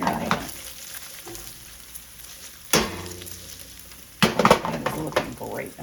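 Bacon frying in its own fat in a pan gives a steady close sizzle, broken by a few sharp clatters of a utensil stirring against the pan.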